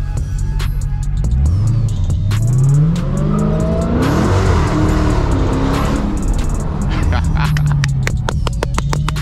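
A Dodge Challenger Hellcat SRT engine rises and falls through several loud, close revving sweeps while driving, throbbing underneath as a person talks over it.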